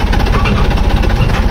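A Massey Ferguson 9500 Smart tractor's diesel engine runs steadily at idle with a loud, continuous throbbing rumble and rapid knocking pulse, close by, no talk.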